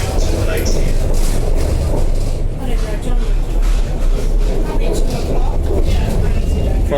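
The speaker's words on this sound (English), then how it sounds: "This tram terminates here." An Adelaide tram rolls along its rails near Festival Plaza, giving a steady, loud rumble and hiss of wheels and motor that carries through the whole stretch, with voices talking over it.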